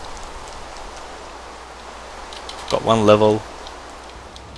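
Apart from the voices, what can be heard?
rain in the video game Minecraft (Better Than Wolves mod)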